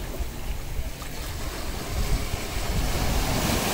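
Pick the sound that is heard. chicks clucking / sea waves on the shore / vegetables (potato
sea waves on the shore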